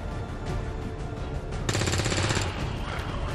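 Rapid bursts of automatic gunfire crackle through a dense, busy XCOM 2: War of the Chosen soundscape, peaking loudest for under a second before settling back into steady clatter.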